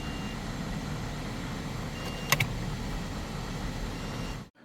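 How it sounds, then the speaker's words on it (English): Two quick electronic beeps from a dash cam without a memory card sound once, briefly, over a steady low engine hum of a 2020 Toyota Yaris Hybrid, with no talking. "once the car is on, you have this annoying beep, beep,"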